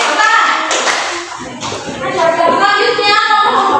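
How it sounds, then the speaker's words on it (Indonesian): A middle-school class claps for a group after a digital thermometer demonstration, a busy patter of many hands mixed with children's chatter and voices throughout. "Oke, tepuk tangan."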